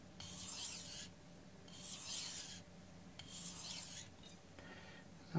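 A knife slides in long full strokes across a Chosera whetstone, four separate gritty rasps with short pauses between them, close and fairly quiet.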